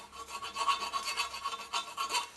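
A hand file rasps across the edges of a cast alloy bellhousing for a Jaguar XJ13 SOHC engine, with quick, evenly spaced strokes repeating close by.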